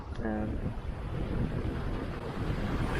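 Steady wind rushes across a sailboat motoring at sea, a continuous broad whoosh with low rumble beneath and no clear talking.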